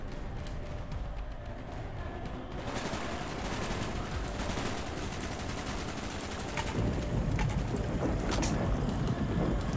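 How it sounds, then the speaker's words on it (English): Rapid AK rifle gunfire from the Call of Duty: Black Ops video game, with dense, sustained automatic bursts that grow heavier toward the end and sit over a rumbling backdrop. "Okay, so this is an AK"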